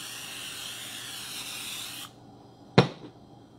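A sustained hiss of an aerosol spray coating a muffin baking pan runs for about two seconds, then stops, followed by a single sharp knock.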